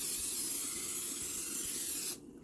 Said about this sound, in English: we're gonna spray our dish so the pasta will not stick on the bottom